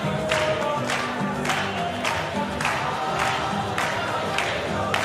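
Crowd at a World Cup of Pool semi-final cheering and clapping, with bursts of applause recurring roughly every second over a steady roar, lively and fairly close.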